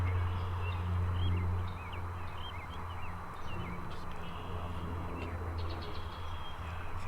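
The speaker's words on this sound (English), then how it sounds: "these birds in the trees behind them making some noise" Faint bird chirps and calls from trees in the distance during a Wisconsin turkey hunt, over a steady low outdoor rumble, coming in short scattered bursts.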